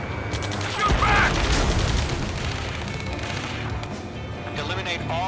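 Battlefield gunfire during the rescue mission in Ace Combat 7: steady loud rattling shots and booms, with urgent radio voices talking over the fire.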